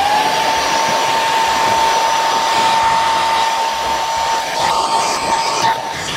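A hair dryer blows steadily on a client's hair during a salon cut and style, giving a continuous loud whooshing roar with a thin whine running through it and no pauses. No voices are heard.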